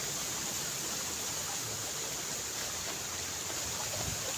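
Fast-flowing water of a mountain forest stream in Cavite pours continuously nearby, a dense, even roar of current that holds steady throughout.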